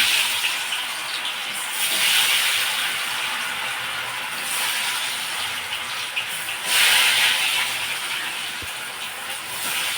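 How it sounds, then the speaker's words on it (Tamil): Food fries in hot oil in a pan, giving a loud, steady hiss and sizzle that swells and eases in waves, with a slight crackle and no talking. "நம்ம நல்லா இதை போட்டுட்டு இன்னும் அது நல்லா ஃப்ரை ஆகட்டும்."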